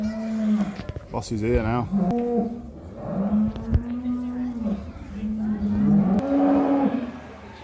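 Several cattle at a cow-judging event on a family farm moo repeatedly and nearby, long low calls overlapping one another, while people talk in between.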